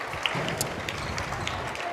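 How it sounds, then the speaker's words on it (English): Home crowd applause at a girls high school basketball game in a gym, a brief steady patter of clapping under faint crowd noise and talk. "the Pirate faithful give a nice round of applause"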